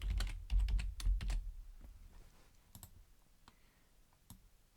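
Keys clatter in quick bursts on a computer keyboard, dense and fairly close at first, then thinning to sparse, softer taps and single clicks, with no talking.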